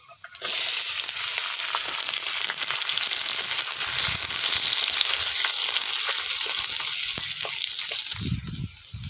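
Boiled potatoes are added to hot oil with chopped green chillies and tempering spices for a spring roll filling, giving a steady loud sizzle with stirring scrapes throughout.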